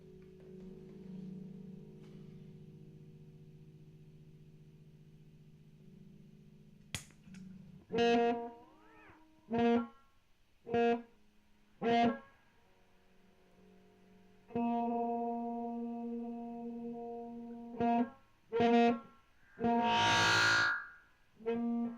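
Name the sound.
Rowin Ana Echo analog delay guitar pedal effect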